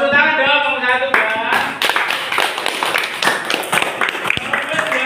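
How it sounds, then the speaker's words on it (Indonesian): A school class clapping for a student group, a lively patter of many hands that starts after a voice speaks and continues unevenly, with chatter mixed in. "Tepuk tangan dong kelompok 1 ya."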